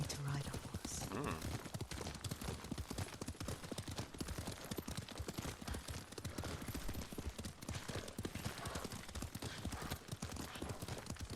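Steady clip-clop of horse hooves from a horse ridden in the video game Ghost of Tsushima, rhythmic and continuous beneath in-game music and dialogue voices throughout.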